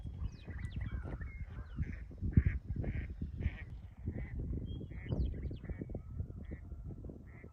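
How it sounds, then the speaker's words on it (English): A crowd of ducks quacks on a lake, heard from a clifftop above, with repeated overlapping calls against faint background noise and no voices. "A whole lot of ducks down there."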